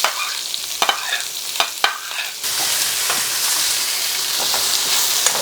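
Beef stir-frying on high heat with spring onion and black pepper, a bright continuous sizzle broken by sharp scraping taps of stirring and flipping, loud and close, without talk.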